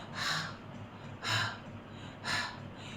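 Three breathy exhales imitate the letter H sound, each a soft airy puff spaced evenly about a second apart, close and quiet, with no speech.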